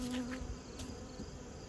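Close, steady buzzing of many honey bees in a hive, a dense droning hum with no voices.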